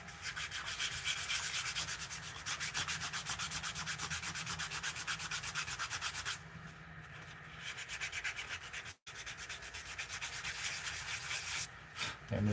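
Steady rubbing of sandpaper against a hand-carved wooden bowl during fine smoothing, a continuous close scratchy rasp in quick back-and-forth strokes that pauses briefly before resuming.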